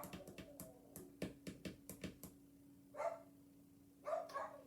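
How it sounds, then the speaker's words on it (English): A dog barks in a quick, irregular run of sharp barks, then gives two longer, whinier yelps, heard fairly close indoors over a faint steady hum, with no talking. "What on earth is he barking about?"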